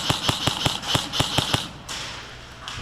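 Airsoft gun firing tracer BBs during a milsim city game, a quick string of about nine sharp snapping shots at an even rhythm, followed by a brief quieter gap and one more pop.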